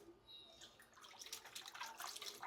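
Cold water mixed with vinegar runs over raw chicken wings as they are rinsed in a kitchen sink, a soft, steady splashing and trickling that grows busier and a little louder toward the end.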